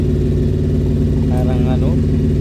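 A carbureted Honda CB400 BP1 motorcycle engine idles after carburetor cleaning, with a loud, steady low throb running continuously, close up, while a voice briefly speaks over it.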